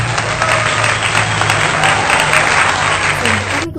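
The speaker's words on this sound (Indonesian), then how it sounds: "beri tepuk tangan dulu untuk kelompok 1" A classroom of students gives group 1 a round of applause after their physics presentation, dense steady clapping filling nearly four seconds before cutting off abruptly.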